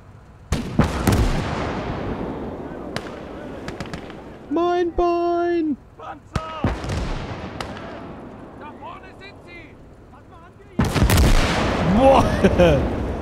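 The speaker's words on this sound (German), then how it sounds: "Das war eine krasse Explosion." Battlefield explosions and gunfire in the World War II game Gates of Hell, with scattered sharp blasts, a heavy loud burst near the end, and people talking in between.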